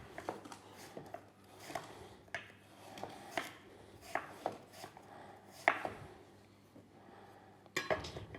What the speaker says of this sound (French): on coupe des fines lamelles